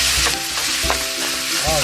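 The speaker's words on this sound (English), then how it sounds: "Now we're going to add our ground beef. Alright, let's cook this fully." Ground beef frying in a pan for a ground beef and potatoes dish, a steady loud sizzle broken by several scraping stirs of a utensil, close up with no talking.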